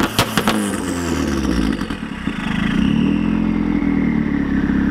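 A Megasquirt-tuned turbocharged car holding launch control, its engine revving hard with sharp popping crackles at first, then settling into a loud, steady held drone, close by.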